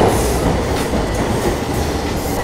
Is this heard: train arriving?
yes